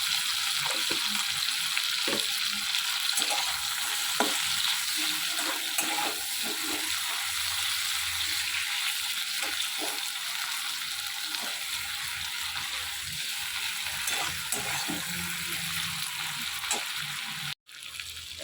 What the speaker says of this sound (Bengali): পেঁয়াজ লঙ্কাটা হালকা ভাজা ভাজা হয়ে গেছে